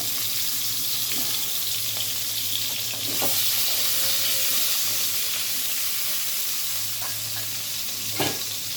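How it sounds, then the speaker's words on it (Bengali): Potatoes fry in oil in a wok over a low flame with the lid on, giving a steady broadband sizzle with faint scattered pops and a few soft clicks throughout, and no voices. "আমরা চুলা ছোট করে ঢাকা দিয়ে দিয়ে আলুগুলি ভেজে নিব"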